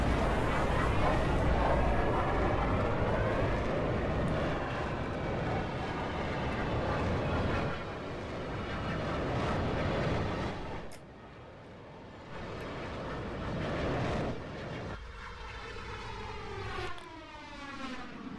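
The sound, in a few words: six-engine aircraft engines in Roblox game Aeronautica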